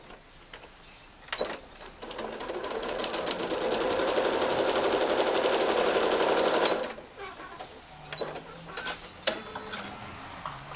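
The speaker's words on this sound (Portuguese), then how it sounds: "Deixa eu tirar esse alfinete antes que eu costure ele." Sewing machine stitching fabric for a crazy quilt, a steady fast whirring run of about five seconds at close range, with quieter start-stop clicks and brief handling noises before and after.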